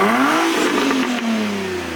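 A Nissan 350Z fitted with a Borla Extreme exhaust revs loudly up close, the engine note climbing then easing back down in a single sustained rev with a deep throaty rasp.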